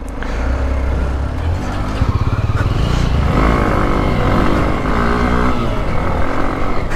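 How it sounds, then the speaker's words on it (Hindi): Motorcycle engine roaring steadily during extreme offroad riding with Xpulse and Yezdi Adventure bikes, revving up for a launch over rough ground, loud and close throughout with brief pulsing bursts around the midpoint. "क्या ही लॉन्च की बाइक मैंने भाई"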